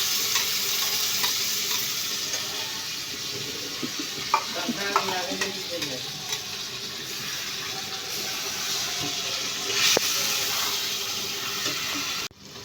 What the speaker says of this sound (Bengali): আদা রসুন লঙ্কা বাটা একটা পেস্ট বানিয়েছি সেই পেস্টটা আমি দিয়ে দিচ্ছি